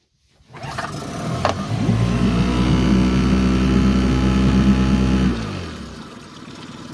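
Outboard boat engine on a river, pull-started with the choke out, catches after a brief cord pull, then idles with a steady loud throbbing drone while warming up before easing off.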